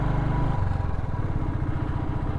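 A motorcycle carrying two riders labours up a steep uphill road, its engine a loud, steady low chugging drone with rapid firing pulses, close and continuous without a break.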